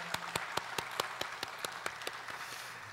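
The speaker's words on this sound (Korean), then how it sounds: "우리 축복한다고 사랑한다고 박수 한번 하겠습니다" Church congregation clapping in a slow, steady rhythm, about a dozen distinct claps over a few seconds, faint and somewhat distant.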